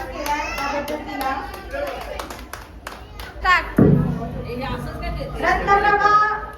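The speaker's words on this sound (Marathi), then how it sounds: "जोरदार टाळ्या वाजवायच्या आहेत" Brief bursts of hand clapping rise amid a crowd at a dance prize ceremony, mixed with children's voices and chatter, while a person talks over the scene.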